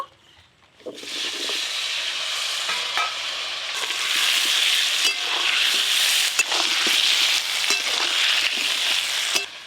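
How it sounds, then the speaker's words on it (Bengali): Potatoes with turmeric powder and salt frying in hot oil, a constant loud sizzle that starts after a brief quiet moment, with occasional stirring clicks and scrapes. "হলুদ গুঁড়ো, লবণ, আলুগুলো খুব ভালো করে ভেজে নেব।"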